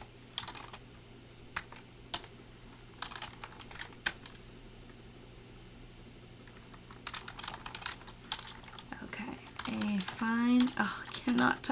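Typing on a computer keyboard, in bursts of quick clicking keystrokes with pauses, growing busier and louder toward the end, with faint talking underneath.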